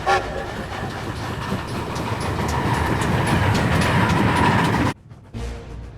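A train runs along the rails with a steady, loud rumble and rattling clatter for about five seconds, then cuts off abruptly, followed by a quieter burst of the same rolling noise.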